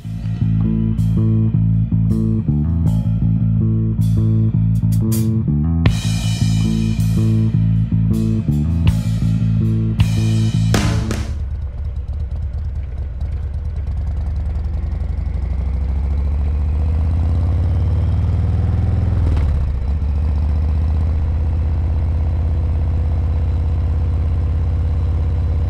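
A touring motorcycle engine runs close and loud, with pulsing, revving bursts at first that settle into a steady, deep idle drone, and no voices.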